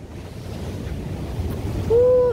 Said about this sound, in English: look at the ocean waves